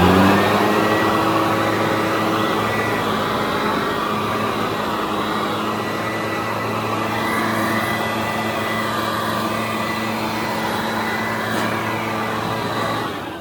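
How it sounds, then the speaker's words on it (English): Backpack leaf blower roaring continuously while drying a freshly washed Ford F-450 dually Super Duty truck, a loud steady high-pitched engine whine with airy rush that barely varies and stays close the entire time. "I just used my leaf blower, backpack blower."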